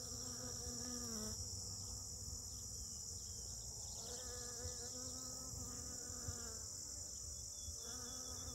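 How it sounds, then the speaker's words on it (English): Honey bees hum steadily around flowering buckbrush outdoors, a dense continuous buzz of many insects holding at an even level throughout, with no voices. "what is that humming noise?"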